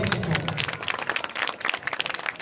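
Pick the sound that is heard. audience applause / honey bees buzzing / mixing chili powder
audience applause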